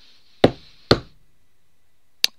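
A bare hand knocks on a tabletop three times: two solid knocks in quick succession, then a pause and a sharper, thinner third knock, each close and loud with a brief resonant decay and no talking.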